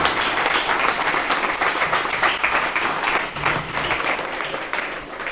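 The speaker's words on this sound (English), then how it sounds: "Let's give another applause for Michael." A church congregation applauds Michael at St. James' annual meeting, a sustained, even roar of many hands clapping together, full and continuous with slight swells, no speech over it.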